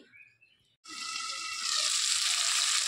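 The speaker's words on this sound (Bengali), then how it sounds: "আর ফুলকপিটা ভেজে নেব" Cauliflower pieces dropped into hot oil in a home kitchen, a brief quiet followed by a sudden loud, continuous sizzle that swells and holds steady up close.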